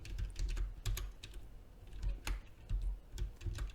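Rapid typing on a computer keyboard during a Java coding lesson, with close, crisp key clicks in uneven bursts and no voice over them.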